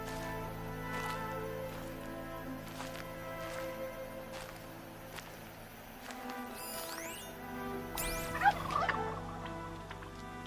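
Turkey gobbling in the game Horizon Zero Dawn, a faint repeated gobble amid quiet ambient forest sounds with insect-like buzzing and a few sharp chirps near the end.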